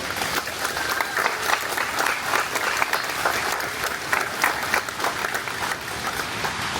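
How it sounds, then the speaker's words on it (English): Audience at a Coast Guard and naval ceremony at Ground Zero in New York breaking into sustained applause, dense steady clapping from a sizable crowd at an even level throughout. "How about a round of applause for all of our family members here today?"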